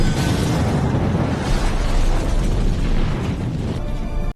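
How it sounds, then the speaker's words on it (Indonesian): A bomb built into a bracelet goes off in a film scene, a dense, sustained roaring blast that fills the whole clip at high level, then cuts off abruptly at the end. "Ketika ambulan menjauh, bom di gelang itu meledak"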